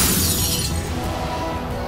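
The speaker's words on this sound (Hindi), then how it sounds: "शीशे का गुलदान हवा से गिरकर टूट गया।" A glass vase falls and shatters indoors, a loud bright crash that decays over about two seconds with no voices.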